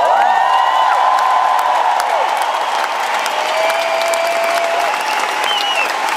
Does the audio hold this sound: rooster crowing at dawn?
no